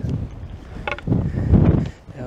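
Strong wind buffets the microphone on a hot, exposed hilltop summit near Sveti Nikola on Hvar, with loud low rumbling gusts surging and easing throughout, a voice talking briefly over it.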